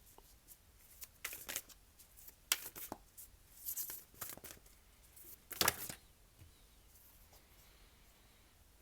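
Tarot cards being shuffled by hand in bursts of crisp riffling and flicking, quiet and close, with pauses between the shuffles and no talking.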